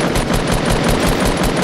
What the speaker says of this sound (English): I shot him in the head. I shot him twice again.